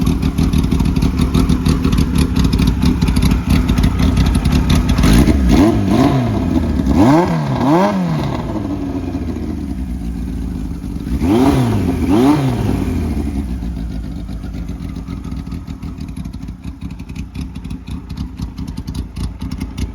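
A cold 1976 Kawasaki Z900 (KZ900 A4) motorcycle engine idles steadily close by, with two sharp revving blips that rise and fall before it settles back to a slightly uneven tick-over.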